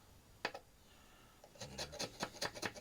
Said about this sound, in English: Get a lot of the corrosion on the sides. Scraping it off.